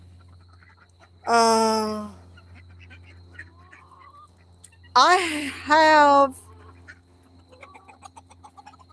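Ducks give two loud nasal quacking bursts, one short and one longer double call, close by against a quiet background with a faint voice.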